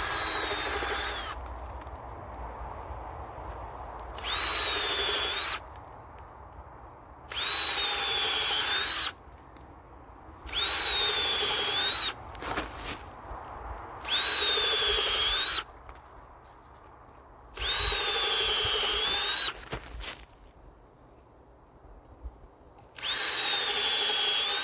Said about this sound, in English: and I'm going to start my drilling